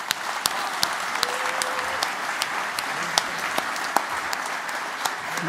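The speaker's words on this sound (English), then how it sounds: "just let's give an applause for Evan" Audience applause at a panel event on two years of war, a steady wash of many hands clapping that carries on evenly for several seconds with occasional sharper individual claps.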